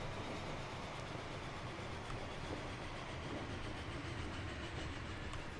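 Steady rumbling of a Super Hudson steam train running at speed down a straight in the railway game Transport Fever, a continuous broadband roar with faint rhythmic clatter, moderately loud and with no talking.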